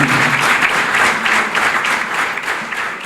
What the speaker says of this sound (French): faire un applaudissement très nourri pour notre grand frère et chef de l'État, le président Patrice Talon